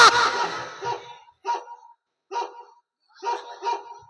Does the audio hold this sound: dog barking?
yes